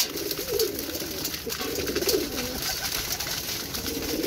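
A recovering female pigeon coos softly and repeatedly while pecking at grain, close by, with a steady background hiss.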